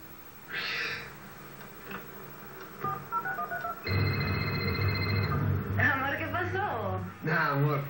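Telephone keypad tones from a landline beep in a quick sequence in a Peruvian TV commercial, then a sustained tone plays and people talk over the rest.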